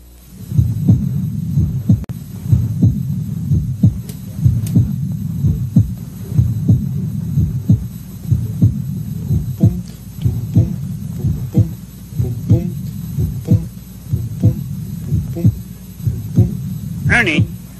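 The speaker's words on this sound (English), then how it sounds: "I'm listening to my heartbeat." Heartbeat heard through a stethoscope, a steady, loud, close thumping pulse repeating about once a second over a low hum, continuing throughout.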